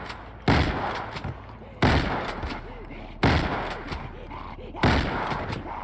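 Four loud gunshots in GTA V, spaced a second or so apart, each a sharp blast with a rumbling tail over steady background noise.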